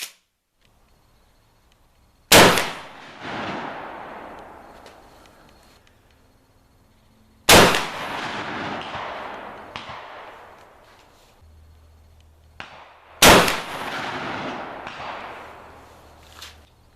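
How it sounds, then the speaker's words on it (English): A cut-down shotgun fires at a 50 meter target outdoors: three sharp, loud blasts spaced several seconds apart, each trailing off in a long echoing decay, with quiet between shots. "Here we are, 50 meters. I'll fire a good 2 rounds."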